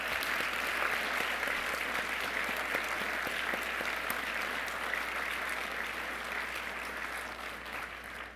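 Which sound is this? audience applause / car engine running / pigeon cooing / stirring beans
audience applause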